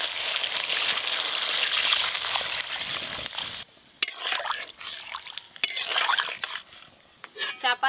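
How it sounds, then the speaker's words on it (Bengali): Water is poured into a cooking pot of potatoes, pointed gourd and turmeric-coated spices, giving a steady loud hiss and sizzle that breaks off into scattered clinks and stirring clatter. "এবার পরিমাণ মতো জল দেব।"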